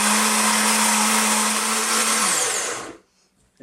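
A blender whizzes paneer masala curry paste ingredients, a loud steady motor roar with a constant hum that runs for nearly three seconds, then dips in pitch and cuts off abruptly into near silence.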